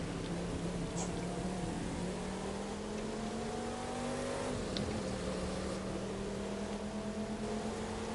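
Car engine in The Crew 2 racing game holding a steady drone with a slowly rising pitch, dipping briefly midway, then climbing again; continuous and fairly loud with no talk.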